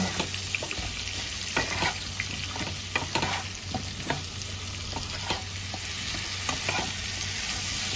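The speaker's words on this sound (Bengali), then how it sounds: "এবার সবজিটা একটু হালকা ভাজা ভাজা করে নেব।" Chopped Malabar spinach and vegetables fry lightly in a pan with shrimp nearby, a steady soft sizzle broken by the scrape and clack of a spatula stirring at irregular intervals.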